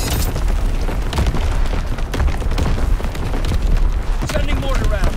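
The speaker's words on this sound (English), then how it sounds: "Sending mortar round." Mortar rounds exploding in the Call of Duty WWII battlefield: loud, close booms and rumbling blasts pile up in a dense, continuous barrage with sharp bursts punctuating the roar.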